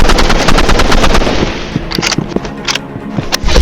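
Rapid automatic gunfire from weapons in the video game Roblox Rivals rattles loudly and continuously, with sharp overlapping shots and bursts throughout.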